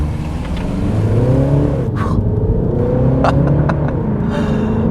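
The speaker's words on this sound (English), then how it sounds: "Mash my left foot on the brake, right foot on the accelerator, launch control active" A 2017 Mini Clubman in sport mode launching hard under launch control: a loud, steady engine roar climbing in pitch through the gears, with brief breaks at the shifts, heard close from inside the car.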